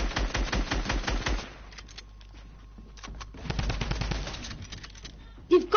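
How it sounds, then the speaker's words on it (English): A Tommy gun in a video game fires rapid, evenly spaced bursts, loud and close at the start, then breaks into scattered shots and a final burst; faint voices sit underneath. "They've got the Tommy gun."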